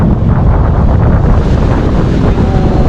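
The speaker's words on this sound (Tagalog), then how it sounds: "oh, grabing hangin no" Strong wind roars and buffets the microphone continuously, a loud, steady rumble with no voices.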